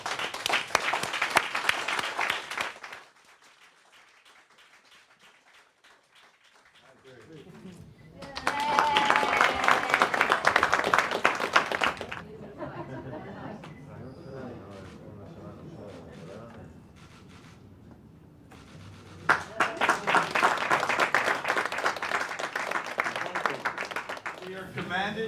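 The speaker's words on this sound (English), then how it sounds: "Everyone, please join me in giving Howard Milstein and Abby Milstein an enthusiastic round of applause" Enthusiastic audience applause at a center dedication ceremony for Howard and Abby Milstein, loud bursts of clapping that rise, fade into a quieter stretch with a voice, then swell again.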